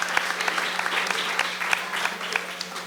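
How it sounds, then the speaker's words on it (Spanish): Steady, dense clapping from an audience at a university journalism conference in San Pedro, applauding Josué, sustained at a fairly close, even level with sharp individual claps standing out. "démosle un aplauso a Josué"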